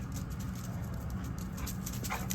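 A dog close by pants steadily with soft whimpers mixed in, a continuous rapid breathy rhythm over low rumbling background noise during an HVAC service call.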